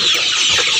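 Brown cock chickens raised for weight on a poultry farm give a single brief, close burst of clucking.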